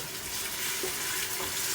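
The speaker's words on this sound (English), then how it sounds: "You hear it sizzling." Meat sizzles steadily in a hot pan on top of onions, a dense crackling hiss close up with faint stirring, no voices.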